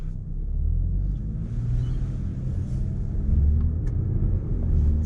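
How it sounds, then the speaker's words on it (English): Steady low rumble of a 2025 Audi S5 on the road, heard from inside the cabin, with constant engine and road drone swelling slightly toward the end and no talking. "driving the new Audi S5"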